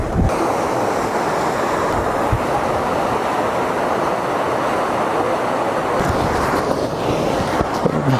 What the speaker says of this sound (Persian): صدای شرشر آب